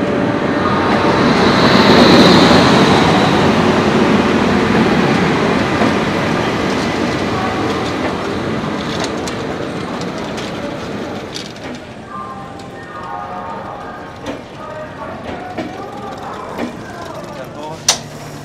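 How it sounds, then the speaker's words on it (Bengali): A new LHB-coach passenger train pulls into Howrah station with a loud, steady rumble of wheels and carriages that slowly eases off, with light clicks and clanks near the end. "দেখো ব্র্যান্ড নিউ ট্রেন কিন্তু ঢুকছে আমাদের হাওড়া স্টেশনে।"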